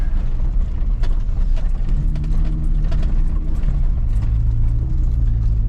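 A rally vehicle with deflated tires drives at a 14-hour endurance rally, giving off a moderate, low engine drone. Its tone shifts midway under a rough rumble and rattle.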